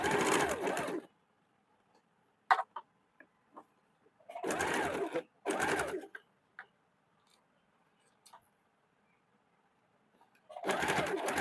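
A sewing machine stitches along the piping of a two-piece blouse in several short bursts, with small clicks and ticks between runs, close-up and moderately loud.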